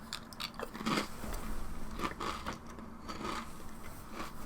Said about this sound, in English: I am eating some Asda poor man's Pringles. They're called Stacks. Sour cream and chive. Or onion, should I say.